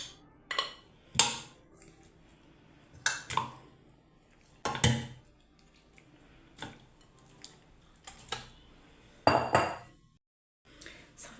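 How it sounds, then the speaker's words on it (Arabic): A cocotte cooking pot handled in a home kitchen while preparing Moroccan chicken, giving scattered metallic clinks and knocks, about a dozen sharp separate hits at uneven intervals, fairly close with quiet pauses between. "خديت الكوكوط فاش غادي نطيب الدجاج."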